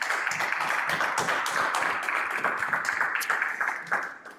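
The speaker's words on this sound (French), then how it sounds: "Vous pouvez l'applaudir, s'il vous plaît." An audience at a Pop the Balloon dating show claps for a participant, a dense, steady burst of applause that tapers off near the end.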